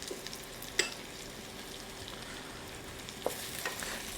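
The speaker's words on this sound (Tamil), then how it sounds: "இந்த வெங்காயம் போட்டதுக்கப்புறம் இன்னும் கொஞ்சம் எண்ணெய் சேர்த்துக்கோங்க இது வதங்கிறதுக்கு" Sliced onions fry in oil in a pan, giving a faint, steady sizzle with a few light clinks from stirring.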